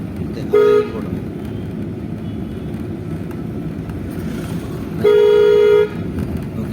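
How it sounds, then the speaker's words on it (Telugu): During a driving lesson, a car horn gives two loud, short honks about four seconds apart over the low, constant rumble of the engine and road. "కొట్టిన హార్న్"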